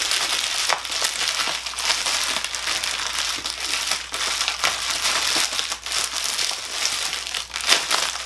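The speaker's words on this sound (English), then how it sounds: "Tear at perforation." Paper packaging on a book order is crinkled and torn along its perforation, a close, steady rustle of crumpling paper with small crackly bursts throughout, no talking.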